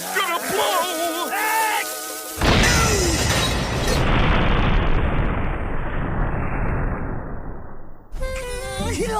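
A cartoon explosion from SpongeBob SquarePants, set off by a sneeze at a clown funeral, bursts after a short stretch of character voices and music, then booms loudly and rumbles for several seconds before the talk returns.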